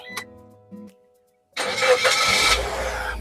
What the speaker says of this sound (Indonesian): kita coba start mobil ya